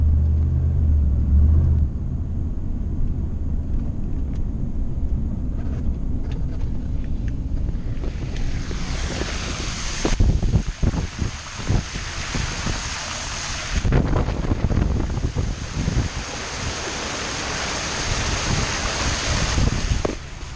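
A car drives slowly through a flooded street after Hurricane Irma in Florida, with a steady broad wash of water and engine rumble throughout, swelling into louder splashing surges midway and again near the end.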